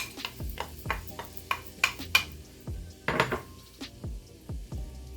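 Peppers tumble into a pan for sautéing, giving a quiet series of light clattering knocks and metallic clinks at an uneven rhythm, with a faint sizzle underneath and no talking.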